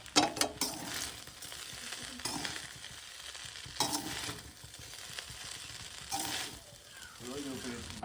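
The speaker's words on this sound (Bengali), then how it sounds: "এবার এটাকে ভালো করে মিশিয়ে নেব" Fried rice with sugar stirred in a pan, with repeated scraping spatula strokes and clanks over a continuous frying sizzle, close and fairly loud, a few strokes louder than the rest.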